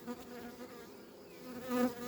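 Honeybees from a recovered swarm buzzing inside a small hive box, a faint, steady humming drone close by with a slight swell toward the end.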